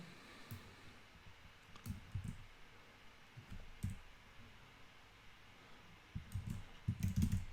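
Keys clatter on a computer keyboard in scattered bursts of quiet clicks with pauses between, growing busier toward the end, with no voices.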